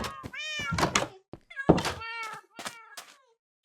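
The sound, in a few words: cat meowing in Minecraft video game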